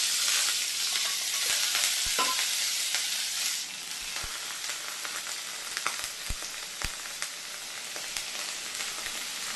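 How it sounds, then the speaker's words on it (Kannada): Mustard seeds and curry leaves sizzle in hot oil for a tempering, a loud, dense hiss with scattered pops and a few utensil knocks, close and continuous, fading slightly partway through. "ಸಾಸಿವೆ ಒಗ್ಗರಣೆ ಇಟ್ಕೊಂಡಿದ್ದಲ್ವ"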